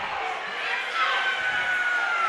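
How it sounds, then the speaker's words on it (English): A large indoor crowd at a high school wrestling sectionals match gives a sustained, steady roar of murmuring and groaning, dense and continuous throughout. "Crowd disappointed."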